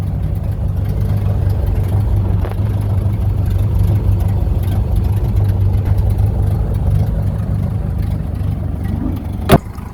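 An old car with a flathead engine runs in a steady, loud, continuous rumble close by, with a low droning tone throughout. A brief sharp click sounds near the end.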